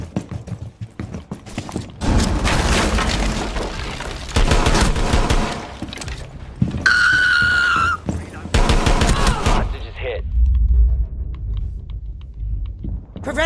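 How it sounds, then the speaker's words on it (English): Dense bursts of rapid gunfire and explosions from Rainbow Six Siege come loud and close, in a chaotic stretch of overlapping shots that tails off near the end. "Why'd you just shoot him, Gaten?"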